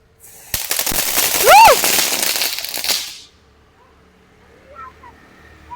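A Diwali firecracker that burns from both ends fizzes and crackles loudly for a few seconds with a rising whistle in the middle, then quiet outdoor background follows.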